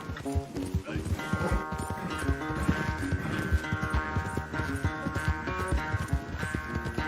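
Horse hooves clip-clop steadily through a race in Red Dead Redemption 2, under a busy layer of game music and voices for the whole stretch.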